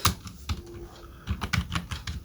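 Quick bursts of keystrokes on a computer keyboard, close up, one short run of taps, a pause, then another flurry, with no voices over it.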